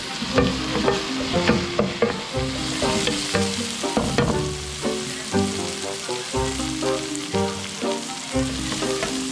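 Tomatoes and ginger frying in a pan, a steady sizzle broken by repeated scraping and stirring strokes of a utensil, close and fairly loud with no talking.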